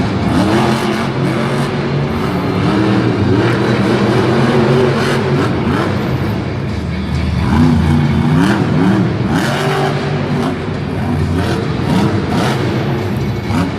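Megalodon monster truck engine roaring and revving through a freestyle run at a Monster Jam arena event in Lyon, France, loud and continuous with rising and falling pitch sweeps.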